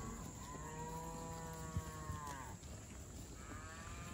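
Cattle with calves on pasture moo in two long, low calls, the second fainter, over a quiet outdoor background.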